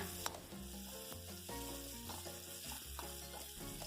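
Chopped chili and garlic sizzle and fry steadily in a hot pan with oil, a continuous close crackle with occasional stirring scrapes and no talking.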